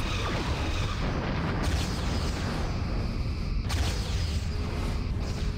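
Torpedo fire and explosions from a Star Trek starship battle game, a dense continuous roar of booming blasts with a few sharper bursts standing out, loud throughout with no talk.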